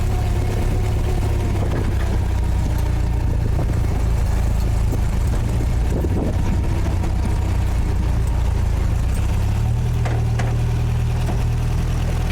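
MGA 1600 Roadster engine running steadily while the car is driven, a low, continuous rumble with a pitch shift partway through as the gear or revs change, loud and close with no talking.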